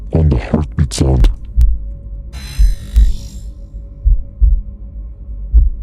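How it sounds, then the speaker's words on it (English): A brief voice speaks, then a heartbeat thumps in soft, low, regular pairs, with crackling and a short hissing burst on top. "Why are there cracks on the heartbeat sound?"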